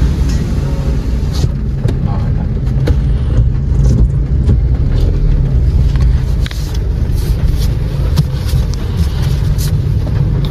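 A car reverses into a parking spot, its engine a steady low rumble close by throughout, with people talking over it.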